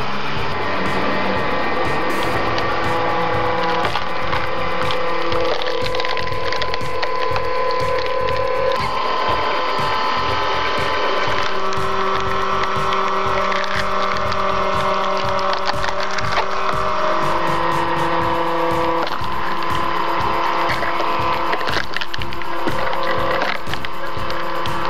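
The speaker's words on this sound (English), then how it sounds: "Pushing the log into the screw to separate it into firewood requires the worker to keep a safe distance" A homemade screw-type firewood processor splits logs, its cone screw grinding and cracking wood in a loud, continuous mechanical drone with steady motor hum and repeated splintering bursts throughout.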